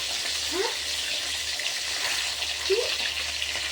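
Fish sizzles in a frying pan with a steady, close hiss of hot oil, with faint occasional stirring or shifting sounds beneath it.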